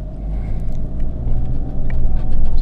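Toyota Prado 150 with a 3.0L diesel pulling away in second gear, a deep steady engine rumble that grows gradually louder over a couple of seconds, heard from inside, with no talk.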